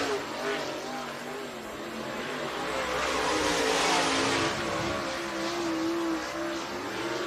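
Dirt-track race cars at Needmore Speedway in Norman Park, Georgia, including the 1N car from Gray, Georgia, rolling out onto the speedway, a steady engine drone swelling slightly at mid-clip over a broad, noisy crowd-and-track wash.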